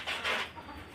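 Desi hens on a small poultry farm cluck softly for a brief moment, faint against a noisy background.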